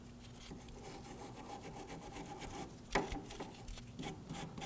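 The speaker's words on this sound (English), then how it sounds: "I'm going to go ahead and clean up the threads on here." Quiet scraping and rubbing as the threads of a Ford Focus inner tie rod are cleaned, continuous gritty brushing strokes up close, with a sharper knock partway through.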